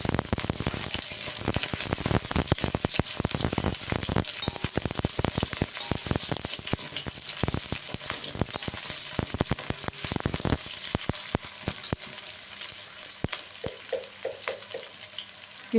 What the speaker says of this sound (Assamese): এতিয়া মই প্ৰথমে পিঁয়াজখিনি দি মেলি লৈছোঁ